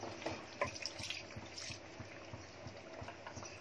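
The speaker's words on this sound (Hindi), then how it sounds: "अब इसमें डालूंगी पानी, पानी चावल के मुताबिक डालने का" Water is poured into rice for chicken kabsa, a quiet, splashy trickle with small irregular drips and gurgles that continues alone for a few seconds.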